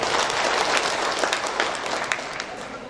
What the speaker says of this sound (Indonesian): tepuk tangan dulu untuk penanya